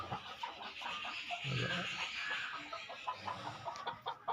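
Several chickens in a coop cluck and squawk close by in a busy, overlapping chorus that continues throughout, with no talking.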